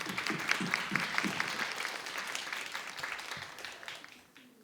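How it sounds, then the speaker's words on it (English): An audience applauds to welcome a guest speaker at a speaking event, a steady, dense round of clapping that continues for several seconds and tapers off at the end. "Everyone, please welcome them with a round of applause."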